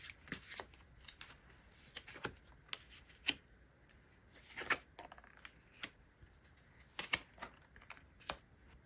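Tarot cards being shuffled close by, with irregular crisp riffles and soft slaps in quick bursts and short pauses, quiet and alone with no voice.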